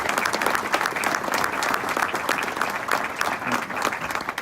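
Audience applause at the Chester County, Pennsylvania State of the County Breakfast, a dense, steady roar of many hands clapping that fills the room and continues evenly throughout, with no talking over it.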